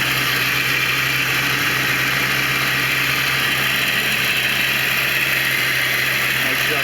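A 1989 Corvette roadster engine idles steadily at close range, an even, continuous low rumble with a constant hum and no change in pitch throughout.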